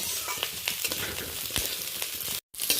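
Potato, carrot and capsicum pieces sizzle in a pan while being stirred, a brisk crackle with scraping strokes and a brief silent gap near the end.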